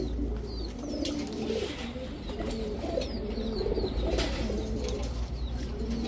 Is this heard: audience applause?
no